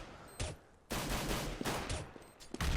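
Rapid bursts of gunfire in the video game Counter-Strike during a pistol round in an ESL EPS France match between VeryGames and Clan Mystik, loud, close volleys separated by short gaps.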